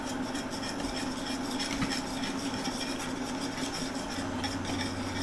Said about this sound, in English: So just keep whisking